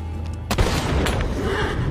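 A single sharp gunshot cracks out about halfway through, fired near a herd of bison, followed by a rumbling echo and low outdoor noise.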